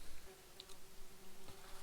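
Bees buzz faintly around a campfire grill where fish is being slow-cooked outdoors, a thin steady drone with brief louder passes as one flies near.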